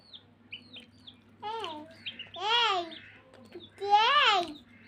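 Domestic chickens clucking and squawking close by in a quiet home setting, several rising calls in short bursts, with faint voices nearby.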